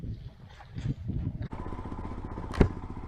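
Royal Enfield motorcycle ridden steadily downhill from Covadonga in the Picos de Europa, Spain, its engine droning at a constant pace with wind buffeting and a sharp knock near the end.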